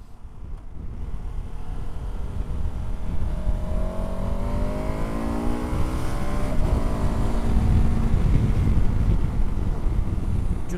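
A KTM 1290 Super Adventure S motorcycle accelerates hard and lifts into a wheelie, its engine note sweeping upward through the gears beneath steady wind buffeting on the microphone.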